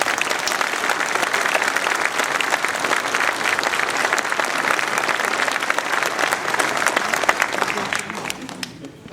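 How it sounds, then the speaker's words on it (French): An audience claps warmly for the security forces at a mayor's New Year address in Ouistreham Riva-Bella town hall. The applause is dense and sustained for several seconds, then thins and fades at the end. "je crois que nous pouvons tous applaudir chaudement nos forces de sécurité"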